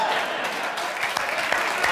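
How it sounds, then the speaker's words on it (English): Studio audience applause on a late-night comedy talk show, a dense steady wash of many hands clapping with a few louder claps standing out, moderately loud and continuing throughout. "I'm not sure why we're applauding"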